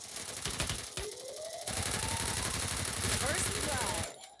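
Rapid gunfire in the mobile battle royale game Free Fire, dense automatic bursts running almost continuously with game effects layered underneath.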